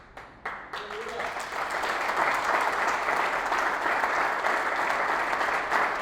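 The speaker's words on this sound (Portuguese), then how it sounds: "Glória a Deus por essas palmas." A church audience applauds after a talk on the consequences of child abuse, a few scattered claps swelling into sustained dense clapping that continues steadily throughout.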